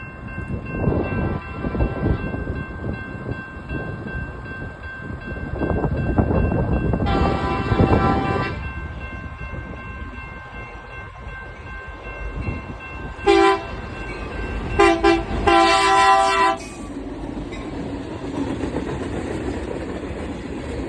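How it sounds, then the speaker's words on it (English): A Union Pacific switching local rolls through the Peltier Road railroad crossing in Thornton, California, with loud rumbling and clanking railcars and several sharp horn blasts near the end. "Here comes a switching train at Peltier Road Railroad Crossing."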